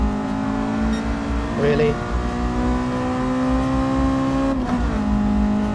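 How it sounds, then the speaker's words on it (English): Engine note of a car in GT Sport with VTEC cutting in around six thousand rpm, a loud steady tonal whine that climbs and shifts pitch, with a short spoken remark partway through. "Maybe that is the actual VTEC. It does cut in at about six grand."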